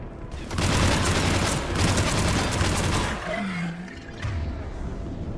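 Video game gunfire from Mass Effect 3, a loud dense burst of shots filling the first half, then thinning into scattered reports under other combat noise.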